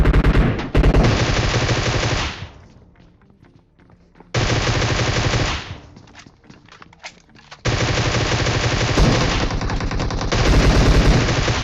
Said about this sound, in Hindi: ग्रेनेड जस्ट मेरे मुंह पे फूटा था